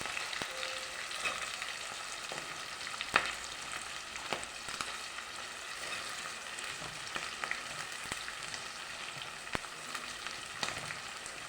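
Oil frying in a pan before onions go in for an Andhra-style spinach curry, a faint continuous crackle dotted with scattered light spatula taps and scrapes at irregular intervals, no one talking.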